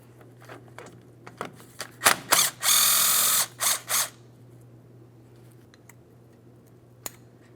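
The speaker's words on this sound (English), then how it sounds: "we're going to have an extended T50 because we have to get deep in this area." Extended T50 Torx bit with a ratchet loosening brake dust shield mounting bolts on a Ford Transit, several short clicks followed by a longer close grinding ratchet burst and two more bursts, then quiet with one sharp click.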